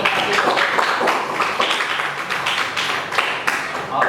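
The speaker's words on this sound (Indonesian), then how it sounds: "beri tepuk tangan untuk hasil presentasi" Classroom of students clapping for a group's presentation, close and lively with individual hand claps distinct in an uneven patter, fairly loud and sustained without speech.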